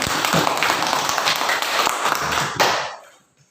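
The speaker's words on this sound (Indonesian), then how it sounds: "mari kita tepuk tangan untuk kelompok 3" Classroom applause for a student discussion group: many hands clapping densely and evenly for about two and a half seconds, then breaking off and fading into near silence.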